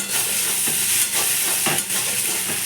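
Beaten egg with salt gets a quick stir in a hot pan, giving a continuous hissing sizzle with a few scraping strokes of the spoon, close and fairly loud.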